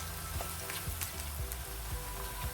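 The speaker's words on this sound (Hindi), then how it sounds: "प्याज को हमने हल्का सा लाइट ब्राउन सा कर लिया है, बहुत ही हल्का सा बस हमने इसको फ्राई किया है" Onions fry gently in a pan, turning light brown, with a soft even crackling sizzle and occasional light stirring taps, fairly quiet and steady throughout.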